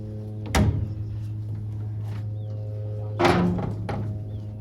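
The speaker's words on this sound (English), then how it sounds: "Shut this door." A heavy metal compartment door on an SP 3100 locomotive, housing the main generator and air compressor, thuds shut with a dull clank, then a second solid slam follows a few seconds later over a steady low mechanical hum.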